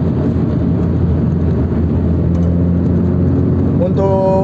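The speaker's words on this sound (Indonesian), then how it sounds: "dari suara knalpot, suara ya suara sistem pembuangannya itu apa ya, memang menimbulkan persepsi bahwa mobil ini kayaknya kencang banget gitu." A Toyota FT86 sports car drives along city streets, its exhaust and road noise forming a steady low cabin drone throughout, with a person talking over it.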